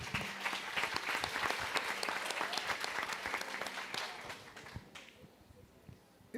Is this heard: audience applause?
yes